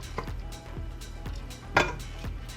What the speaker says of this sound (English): I'm just gonna smash them up into bite-sized pieces, or smaller pieces that are easier to pick up